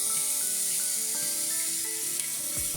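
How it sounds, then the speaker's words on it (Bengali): Spice masala frying in a pan with a little water added hisses and sizzles steadily and fairly quietly, with light stirring and a faint tonal background underneath. "এই জল দিয়ে দিয়েই আমি কিন্তু পুরো মশলাটাকে কষাবো"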